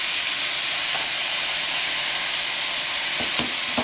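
Mushrooms sauté in olive oil in a pan with a steady, close, bright sizzle and hiss, broken near the end by a couple of quick stirring knocks.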